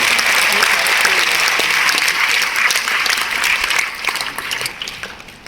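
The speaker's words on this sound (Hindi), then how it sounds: "जोरदार तालियों से स्वागत कीजिए" Loud, dense applause from an audience at a devotional discourse gathering in Jaipur, a steady wash of many clapping hands that holds for several seconds and then slowly thins toward the end.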